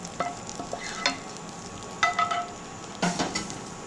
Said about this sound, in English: we will give a quick mix to it